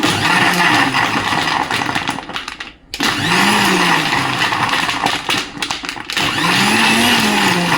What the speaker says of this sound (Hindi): हमें धीरे धीरे इसको पहले चलाना है ताकि हमारे आइस क्यूब जूस के साथ एडजस्ट हो जाए